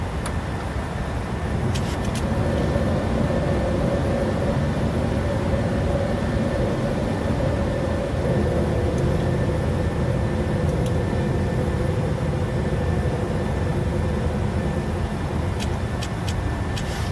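PMDG 737-800 airliner in Microsoft Flight Simulator 2020 climbing after takeoff, a steady loud jet engine roar with a sustained whine and broadband rush, continuous throughout with a few faint clicks.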